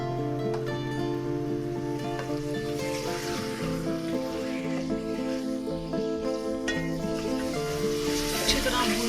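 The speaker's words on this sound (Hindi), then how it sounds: "चिकन को भूनेंगे अदरक लहसुन के पेस्ट के साथ" Half a kilo of chicken sizzling as it is fried with ginger garlic paste in a pan for a dry plum curry. Steady crackling hiss runs throughout, close and continuous, with tonal music playing underneath.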